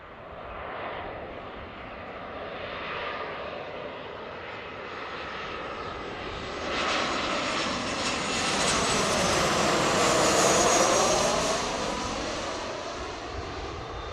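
Skywest jet airliner landing on runway 34 left at Seattle. A steady, moderately loud jet engine roar swells and fades, with a sweeping tonal whine as the aircraft passes nearby.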